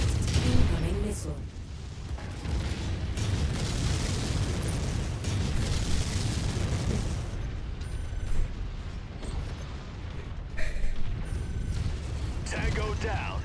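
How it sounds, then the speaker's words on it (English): An incoming missile explodes in a video game, a long rumbling blast with scattered bangs and crackling debris over a low mechanical drone, followed by quieter bursts. "Incoming missile."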